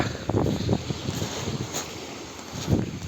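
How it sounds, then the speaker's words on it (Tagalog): Strong sea waves surge around a small fishing boat out on open water, their low rushing swells buried under heavy, buffeting wind noise on the microphone. "tingnan nyo yung alon, lakas"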